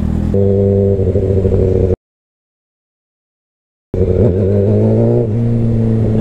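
A loud motorcycle engine revs and roars up close at a drive-through, cuts out to silence for two seconds, then roars back with rising pitch.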